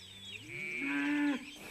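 A single cow moos loudly and close by, a rising, drawn-out low call lasting more than a second that ends abruptly.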